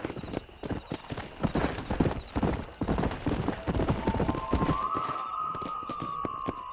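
A horse in the Western game Red Dead Redemption gallops with rapid, loud, rhythmic hoofbeats, joined near the end by a sustained tonal musical note.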